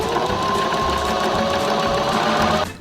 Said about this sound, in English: We're going to sew a single line from this edge to about a 1/2 inch before